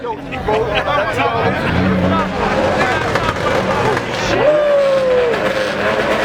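Sharp pops and crackles from a modified car's exhaust burst out over revving and a noisy crowd at a car meet, with people chattering nearby.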